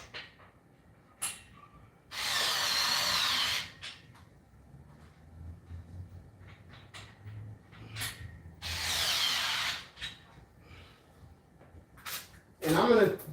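Tightening bolts while assembling a RitFit M1-C Smith machine: two sustained bursts of loud broadband ratcheting or spinning, each about one and a half seconds, separated by quieter handling clicks and knocks, with a short rasp at the end.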